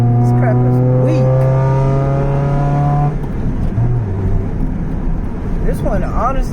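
A car with a check engine light on revs hard in a weak burnout attempt, a steady droning engine note held for a few seconds before dropping into rougher, noisier running, close by.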